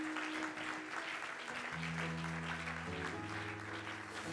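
A church congregation at a CHADASH gathering applauds and cheers for the Lord. The clapping is steady and moderately loud over sustained keyboard chords that hold and shift beneath it.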